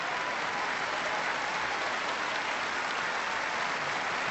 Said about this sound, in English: Again, the appreciative crowd.